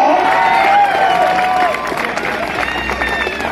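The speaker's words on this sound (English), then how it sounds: "Yeah, give a round of applause." A live audience at a Hmong entertainment show breaks into applause and cheering, a dense, steady wash of clapping and crowd noise with a few high whistle-like calls standing out.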